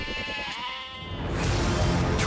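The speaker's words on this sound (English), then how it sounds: "inexplicably next to a field of mildly interested goats" A goat lets out a wavering, nasal bleat close by, followed by a rougher, noisier stretch of bleating and outdoor rumble.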